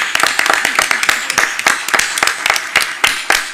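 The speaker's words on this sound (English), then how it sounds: "let's give him a round of applause as well" An audience at a school board special called meeting applauds the acting superintendent, with dense, steady clapping that continues for several seconds and sharp individual claps standing out close by.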